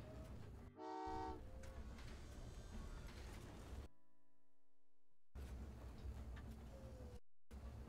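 Trains in the video game Train Valley 2 rumble and clank along with a mechanical hum, a brief horn-like toot near the start, and a short quiet gap midway.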